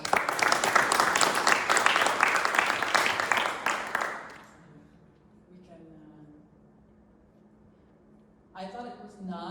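An event audience gives loud, dense welcoming applause for about four seconds, which then fades to a quiet room before a voice begins speaking.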